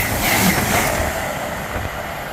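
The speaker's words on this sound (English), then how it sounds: "the next train to come trundling down is going to be a LNER Zoomer" An LNER Azuma express train rushes past at Biggleswade on the East Coast Main Line in a loud, continuous roar of wheels on rails, fading slightly toward the end.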